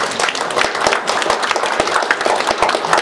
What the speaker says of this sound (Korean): 우리 시대에 아주 노벨 평화상 감독 우리 서정민 교수에게 다시 한번 박수 한번 주십시오